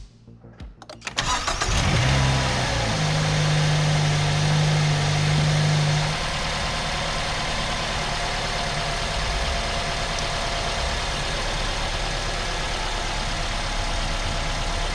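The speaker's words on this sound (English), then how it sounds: "So let's start the car and let it idle down." A 2010 Mazda 6 engine cranks and fires up, revs high for a few seconds, then settles into a steady, loud, close idle that continues to the end.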